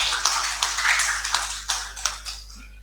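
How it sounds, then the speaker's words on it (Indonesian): Scattered hand claps with a few sharper individual claps over a steady room hum, from a small gathering at the Ministry of Religious Affairs office in Tegal city honouring an official. "Tepuk tangan loh."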